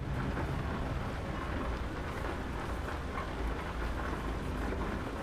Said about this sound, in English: got a bit of rain on the way